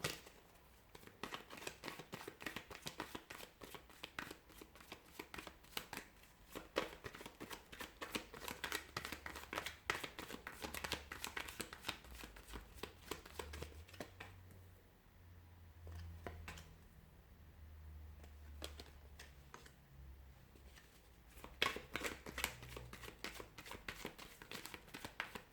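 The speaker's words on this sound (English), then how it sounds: "give the cards a shuffle" Tarot cards being shuffled for a reading, a long run of dense papery riffling and rapid card flicks that keeps going with brief pauses, close and moderately loud, with no voices.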